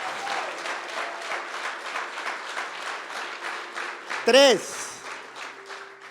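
Church congregation applauding steadily and evenly throughout a Spanish-language sermon at City Church Barcelona, with a short spoken word cutting in near the end.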